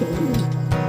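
Racing pigeons coo nearby in a loft, a low rolling coo repeating steadily through the short moment with a soft bird call layered on top.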